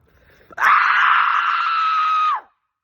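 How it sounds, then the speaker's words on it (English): A woman lets out one long, loud scream close by, held steady for about two seconds before it cuts off sharply. "I want to scream now."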